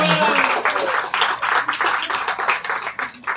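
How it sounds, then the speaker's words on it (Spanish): Audience at an adult birthday party show clapping loudly and steadily in a dense wash of applause, with faint voices and a brief tonal sound near the start. "Fuerte el aplauso."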